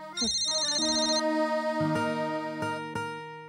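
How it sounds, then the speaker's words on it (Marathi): A phone ringtone plays a bright electronic melody of rising and falling notes, clear and close, with no talking. "हा बघ, सरांचाच फोन आला."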